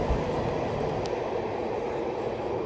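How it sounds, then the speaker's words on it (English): A Sydney Metro train departs Barangaroo station from the platform, a steady loud rumble of wheels and motors filling the underground space, with a faint high whine above and no talking. "here's one of the metro trains leaving platform 2 instead of 1, headed that direction"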